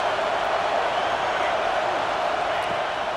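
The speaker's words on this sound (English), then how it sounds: "this crowd is coming to help the defense" Stadium crowd in the EA Sports College Football 26 video game, a steady, dense roar of cheering fans late in a game on a fourth down, filling the space evenly from start to finish at moderate volume.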